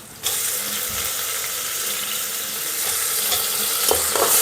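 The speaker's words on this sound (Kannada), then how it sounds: "ಈಗ ನಾನಿವಾಗ ಟೊಮೆಟೊ ಹಾಕ್ತಾಯಿದ್ದೀನಿ." Tomatoes hit hot oil over softened onions in a pan while vegetable pulao is cooked, giving a steady, close broadband sizzle that starts abruptly and holds through, with a few faint clinks near the end.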